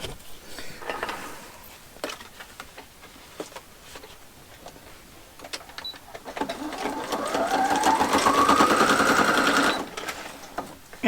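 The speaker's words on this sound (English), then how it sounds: "I've got my sewing machine close to me now" A sewing machine stitches close by while ephemera is made, starting with brief ticking and tapping, then settling into a fast, rising mechanical whir for several seconds before stopping.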